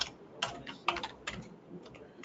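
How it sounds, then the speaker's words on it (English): Clicky typing on a computer keyboard, a few quick keystrokes in short bursts with pauses between, close and fairly quiet. "I keep messing up on the keyboard here today"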